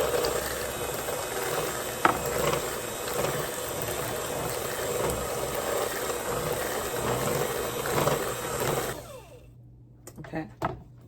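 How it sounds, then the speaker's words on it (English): An electric whisk runs at its highest speed through pecan pie filling, a loud continuous mechanical whir with a rattling edge that holds steady for several seconds, then cuts off, leaving a few light clicks and knocks. "if you want, you can go ahead and use your whisk. And when I use it, I try to put it on the highest speed"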